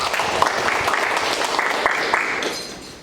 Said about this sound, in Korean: 양규현 대표이사 사장님께 다시 한번 큰 박수 부탁드립니다